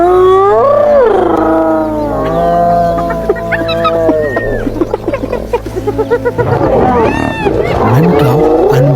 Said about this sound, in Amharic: ከ20 በላይ የሚሆኑ የተራቡ ጅቦች በዙሪያው ከበው ያሽካካሉ።